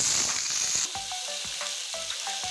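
Cut potatoes frying in hot oil give a steady, loud broadband sizzle throughout, with soft clinks of stirring and a brief dip in hiss partway through as the pieces settle.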